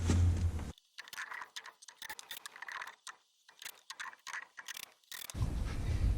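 A power driver sends screws into a wooden greenhouse table leg, whirring in short bursts separated by brief pauses, with clicking mechanical ratcheting, loud and close, framed by louder handling noise at the start and end.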